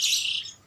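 A single short, high chirp from a bar-winged prinia (ciblek) rings out close and clear, then fades quickly in less than a second with no talking over it.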